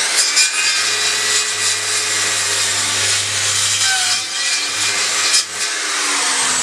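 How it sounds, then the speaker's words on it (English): A circular saw cuts timber to length for a recycled-materials worm farm, a loud continuous whining buzz of the blade biting through wood, close up and sustained with slight dips as the cut progresses. "I'm just going to cut them to length just there with a circular saw"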